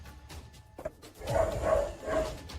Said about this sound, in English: Some of the dogs in his neighborhood are going crazy